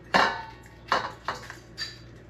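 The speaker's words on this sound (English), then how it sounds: "I'm going to use my spoon to scrape out the insides." A metal spoon scrapes the soft insides out of halved peaches into a compost bowl, making four or five short, distinct scraping strokes. The strokes are close and fairly quiet, with brief pauses between them.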